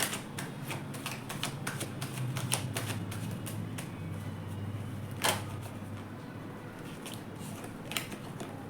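Tarot cards are drawn from a deck, giving a run of quick, crisp card snaps and flicks at an uneven rhythm, close and fairly quiet with a louder slap midway.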